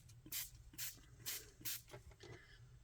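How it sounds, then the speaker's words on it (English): Four or five short bursts of glimmer mist spray hiss onto piano roll paper, each about a third of a second long, evenly spaced and fairly close, with quieter faint sprays toward the end. "this is traditional glimmer mist or glimmer spray"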